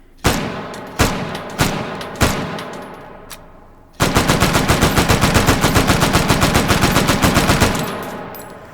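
Sten submachine gun fired in Hot Dogs, Horseshoes and Hand Grenades: four loud single shots spaced about half a second apart, then a sustained full-auto burst of rapid, evenly spaced cracks lasting several seconds.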